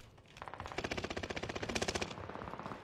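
Rapid automatic gunfire in Call of Duty: Warzone, a steady burst of evenly spaced shots running about two seconds, loud and close, with no talk over it.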